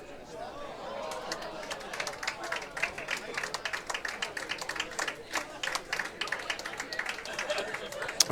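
A standing curling crowd in Quebec applauds at the Canadian Masters Curling Championships, a sustained wash of dense clapping with crowd chatter and a commentator's voice mixed in.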